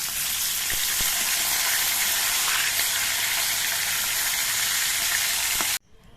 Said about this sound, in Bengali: তেলটা গরম হয়ে যাওয়ার পর এর মধ্যে মাছগুলোকে ভেজে নিচ্ছি।